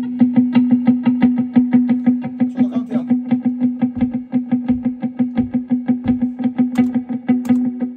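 An electric guitar played through a dotted eighth delay effect, rhythmic picked notes ringing with regular repeats that blend into a steady, pulsing pattern, loud and clear with no talking.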